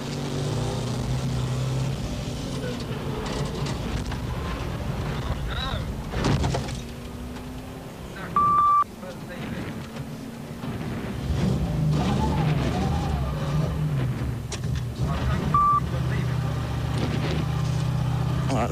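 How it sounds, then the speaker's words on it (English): A 280 horsepower Rover rally car on a special stage of the 1984 RAC Rally, its engine a steady loud drone through most of the run, with brief dips and a few sharper knocks, under commentary. "The big, powerful 280 horsepower Rover being threaded carefully over this very first test."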